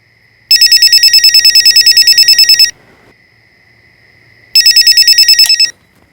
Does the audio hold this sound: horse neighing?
no